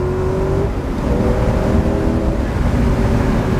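A Spyker C8 exotic car accelerating hard along a straightaway, its engine note rising in a loud, continuous roar heard from close by with rising tonal harmonics.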